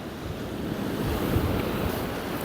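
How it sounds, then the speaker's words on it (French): Strong wind roars across a beach in Sardinia, buffeting the microphone in a steady broadband rush, with surf washing beneath it and no talking. "C'est ce vent."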